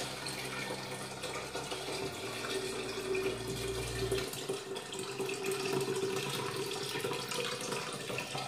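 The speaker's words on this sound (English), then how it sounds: "I want to strain off the coconut milk properly." Coconut milk poured through a large strainer, a steady close trickle and splash of liquid running throughout, with a lower gurgling pour swelling briefly in the middle; no talk.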